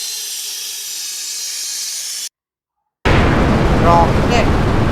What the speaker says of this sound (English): air balloon,